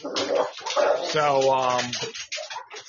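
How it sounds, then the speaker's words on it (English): A dog barks and whimpers with drawn-out whining tones at close range, mixed with a man's speech. "That's my dog, by the way."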